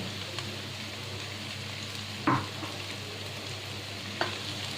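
Boiled arum lobes being mixed into spices in a pan with dried fish, a low continuous sizzle broken by two brief spoon knocks.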